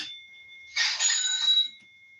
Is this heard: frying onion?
no